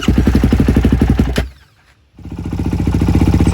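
A freshly washed quad ATV engine idles with a rapid, even chugging pulse, loud and close, then cuts out abruptly into near silence for about half a second before catching and running again at the same steady idle.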